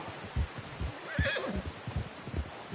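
A horse whinnies loudly in Red Dead Redemption 2, a rising-and-falling neigh in the middle of steady clip-clop hoofbeats and snorts, close and clear with no talking.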